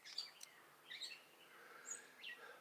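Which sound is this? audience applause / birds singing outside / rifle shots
birds singing outside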